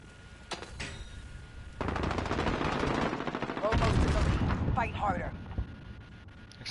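Rapid automatic gunfire rattles almost continuously in a Modern Warfare multiplayer match, loud and dense, with burst after burst layered over game effects and a voice speaking in between.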